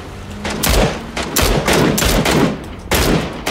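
Rapid automatic gunfire in PUBG Battlegrounds, a firefight on a hill by the factory, with dense bursts of shots cracking close and loud in quick succession across the whole stretch.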